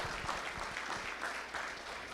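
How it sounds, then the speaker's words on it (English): Audience applause at a student cultural performance by a university Philippines club, a steady dense wash of clapping filling the whole moment with no voices over it. "Another round of applause for our student performers."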